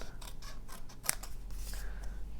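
Scissors snip paper being trimmed into strips for a small embellished legal pad notebook, one sharp close cut standing out in the middle against a quiet room background.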